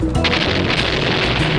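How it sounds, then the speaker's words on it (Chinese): An explosion sound effect in a children's science programme about nuclear reactors, a loud, dense roaring blast with crackling debris that fills the whole moment without pause. "爆炸是不是？"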